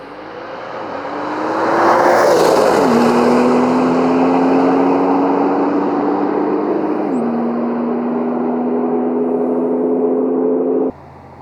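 A tuned Porsche 911 Turbo S (992) revs up hard on a quarter-mile launch and accelerates away, its pitch dropping at two gear shifts while the loud roar holds steady until cutting off.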